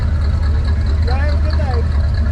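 A classic car with a stock 360 engine idling at a street rod event in Louisville, a close, low, steady rumble while someone speaks briefly over it.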